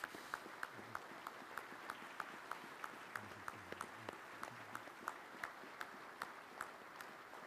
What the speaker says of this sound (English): I was told that that clap was for Sally